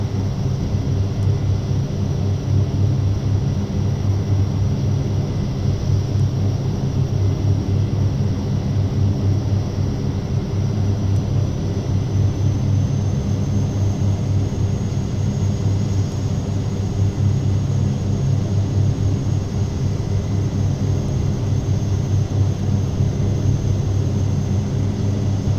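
A steady, loud drone from a Carenado Short 360 turboprop on final approach in a flight simulator, unchanging throughout with no voices.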